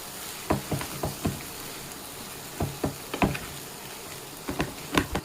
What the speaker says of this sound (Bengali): এখন এটা আবারও ভালো করে মশলার সাথে মিশিয়ে দিব।